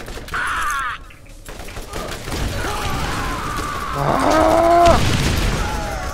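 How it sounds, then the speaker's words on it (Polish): A grenade explodes in Borderlands, a broad, rumbling burst among other game effects and chirping tones, with the loudest swell near the end. "O, granat wybuchł."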